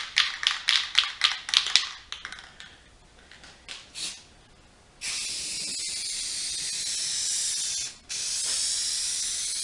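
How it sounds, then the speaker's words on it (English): Rattling of an aerosol can of Rust-Oleum matte clear coat being shaken, then a close, loud, steady hiss of spray onto a Christmas welcome sign, in two long bursts with a brief pause between. "we're going to go ahead and put some clear on it. This is the clear that we have. It's made by Rust-Oleum. It's a matte clear."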